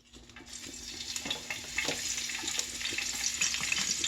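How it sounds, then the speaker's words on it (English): Onions hitting hot grease in a pan while cooking liver and onions with gravy, bursting into a loud, bright sizzle that builds and holds steady, with faint clinks of stirring. "Okay, now our grease should be hot. We're going to add our onions."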